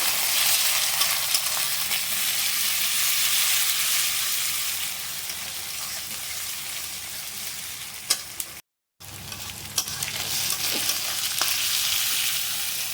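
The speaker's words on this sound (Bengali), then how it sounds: "তো দেখো আদা রসুনটা একটু ভাজা হয়ে গেছে" Ginger-garlic paste frying in a hot pan, giving a steady, close hiss with occasional stirring clicks and one brief break partway through.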